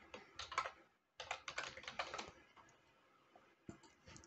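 Fast typing on a computer keyboard while entering personal details into an online bank account form, with quick bursts of close, crisp key clicks separated by short pauses.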